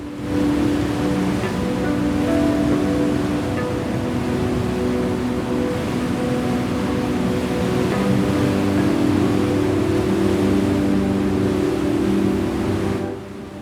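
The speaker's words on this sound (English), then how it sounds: "At Iguazu National Park, water does not fall, it explodes." Iguazu Falls in Iguazu National Park, a vast system of cascades, giving a loud, steady roar of falling water that holds unbroken from start to finish.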